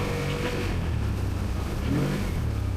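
A GOES Terrox 1000 ATV engine runs with a steady, throaty drone that swells and rises in pitch near the end, close by and alone without voices.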